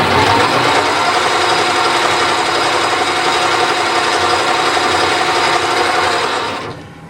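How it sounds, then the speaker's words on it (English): A drill press whirs steadily as it drills with a 90-degree spotting drill, a continuous high mechanical hum that winds down at the end. "So that's a 90-degree spotting drill."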